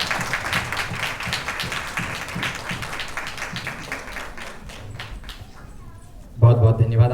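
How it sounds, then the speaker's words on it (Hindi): An audience claps loudly at the launch of a poster for a natural childbirth mission, a dense burst of clapping that thins out before a louder noise rises at the end. "एक बार जोरदार तालियां।"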